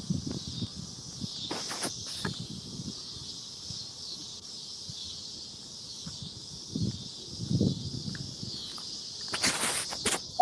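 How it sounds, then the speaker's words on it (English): Cicadas buzz in a steady high drone throughout, with louder surges near the start and end, under scattered knocks and shuffling close by. "Are those cicadas in the background at your place?"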